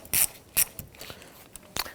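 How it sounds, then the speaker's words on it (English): A ratchet with a 10mm socket and extension loosens a battery nut on a 2011-2015 Kia Sorento, giving a few sharp, quiet, irregular clicks and short ratcheting bursts. "We'll use a 10mm socket, our extension and ratchet, to go ahead and loosen the"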